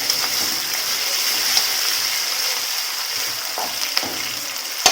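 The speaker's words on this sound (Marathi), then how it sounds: "ह्याचा चांगला असा फोडणीत मिक्स करून घ्यायचा तेलात चांगला एक दोन मिनटं हलवायचा" Sabudana stirred into hot tempering oil for Maharashtrian sabudana khichdi gives a continuous soft sizzle, with a few light scraping clicks from the stirring scattered through it.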